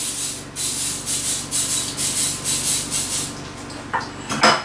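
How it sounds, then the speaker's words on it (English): Cooking spray hisses out onto muffin tins in a series of short bursts, about ten quick sprays in a steady rhythm, close up, followed by light clatter. "we're going to just spray these very quickly with a cooking spray"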